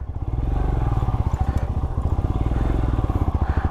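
A motorcycle on CEAT tires labors up a steep mountain slope, its engine thumping in a fast, even rhythmic chug, close and loud with slight rattling throughout.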